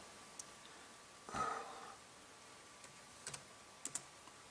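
A few faint keystrokes on a computer keyboard in a quiet room, one short cluster of typing followed by scattered single clicks near the end.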